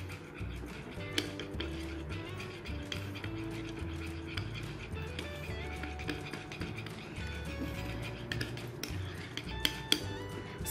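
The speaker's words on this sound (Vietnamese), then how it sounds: "Các bạn trộn đều hỗn hợp này thành một hỗn hợp đặc sánh" A spoon clinks and scrapes steadily against a bowl while stirring a thick mixture of egg, honey and vitamin E, with soft background music throughout.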